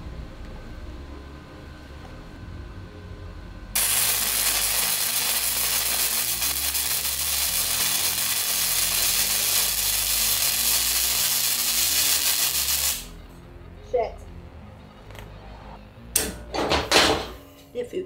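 A Lincoln Electric LE31MP welder lays a bead for about nine seconds, a loud, dense, steady crackling hiss that stops abruptly, followed by a few clanks, scrapes and brief bursts of sound.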